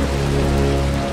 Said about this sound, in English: Aw, not the rain!